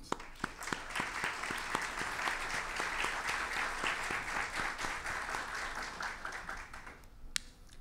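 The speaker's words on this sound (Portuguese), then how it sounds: "vai ser recebido com uma salva de palmas" Applause from an academy audience greeting professor Faustino Teixeira at a lecture on spirituality, a dense steady wash of many clapping hands with sharp individual claps standing out, fading near the end.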